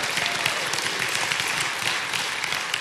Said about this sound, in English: I think we ought to give the Lord a great big praise clap